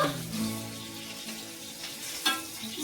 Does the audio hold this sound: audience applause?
no